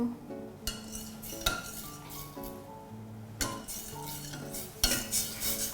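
A metal spoon stirs coconut cream and green curry paste in a pan, scraping and clinking against the metal in irregular strokes, close and moderately loud, with a faint sizzle underneath.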